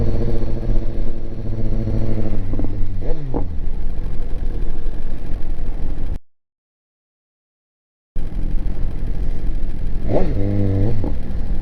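A BMW S1000RR sport bike engine runs loud and close on a Berlin street, droning steadily with rising and falling revs; it briefly cuts to silence, then returns with another sharp rev.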